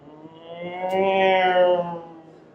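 A single voice mimics a race car zooming past, a buzzing hum that swells louder in the middle, then fades away over a couple of seconds.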